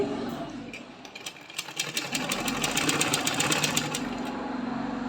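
A sewing machine runs steadily while stitching a folded hem on a blouse, its rapid needle clatter building in density and holding a continuous mechanical whir, with faint speech in the background.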